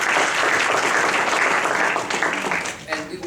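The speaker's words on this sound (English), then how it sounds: "So I'd like a little round of applause for our participants today" An audience at a legal panel event on immigrants' rights applauds the participants, a dense wash of clapping that fades toward the end as a voice begins speaking.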